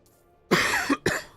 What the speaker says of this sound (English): Sorry for coughing into the microphone there.